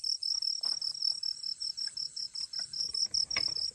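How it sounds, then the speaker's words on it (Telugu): Crickets and other insects chirp loudly at a night camp in tribal hills, a dense, steady pulsing trill that repeats rapidly and close by, with no voices. "పురుగులు ఘోరంగా అరుస్తాయి అసలు."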